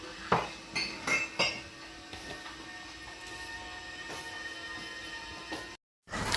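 Pieces of fish laid into an oiled frying pan, with several sharp metallic clinks early on followed by lighter scraping taps and a brief silence near the end.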